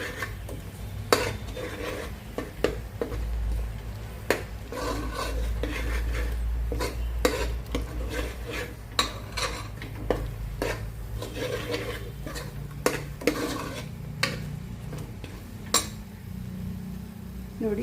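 Minced meat with masala is stirred as it fries in a pan, giving irregular scrapes and sharp metallic taps of a spatula against the pan over a low background rumble.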